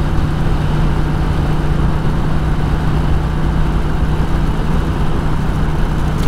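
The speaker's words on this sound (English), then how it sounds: "This exhaust drone is not unbearable at all." A Honda Rebel 1100 fitted with a Coffman's Shorty exhaust gives a steady, continuous low engine drone at cruise, loud and close throughout with no voices.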